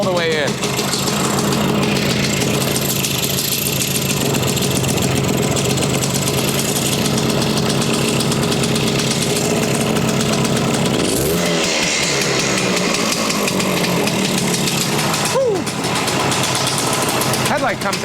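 A Harley SX175 motorcycle engine runs steadily near idle with its starting enricher circuit on, a loud continuous mechanical drone throughout, while someone talks over it.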